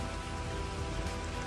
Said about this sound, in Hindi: तीसरी बार बारिश हो रही है आज